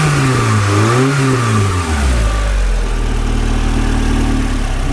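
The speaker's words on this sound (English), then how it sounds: "I'll give it a couple of revs" A 1997 Renault Sport Spider's engine revs up and falls back in a rising-and-falling sweep, then settles into a loud, steady idle close by.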